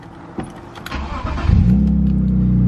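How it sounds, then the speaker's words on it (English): A BMW E36 328is cranks briefly with a few clicks and whirs, then catches and fires up, settling into a loud, steady idle with a strong low rumble close to the microphone. "So it fires right up"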